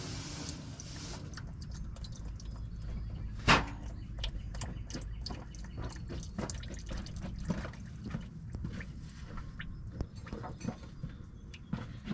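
Diesel fuel drips from the bleeder screw of a dump truck's fuel system, a quick irregular patter of close, distinct drops with one louder splash early on, continuing alone.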